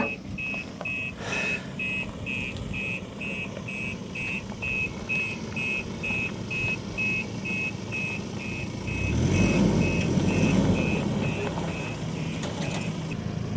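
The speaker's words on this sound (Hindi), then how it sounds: "अभी डंपर खाली होगा यहाँ पर।" Dump truck reversing to unload sand and gravel: a steady, evenly pulsed reversing beep repeats nearby over a low engine idle, and a louder rumbling surge near the end suggests the load sliding out.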